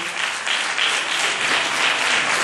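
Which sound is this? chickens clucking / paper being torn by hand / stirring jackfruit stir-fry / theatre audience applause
theatre audience applause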